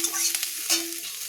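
Crushed garlic sizzles in a pan with dal as a spatula stirs it, brief close scraping strokes over a soft frying hiss, no voices.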